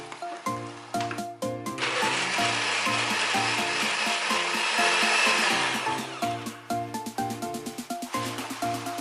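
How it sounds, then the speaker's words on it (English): A kitchen blender whirs loudly as it purées soup ingredients with added water, starting with short choppy pulses, then running in a continuous roar before slowing into rapid stuttering bursts. "So I'm going to blend this until they are properly blended."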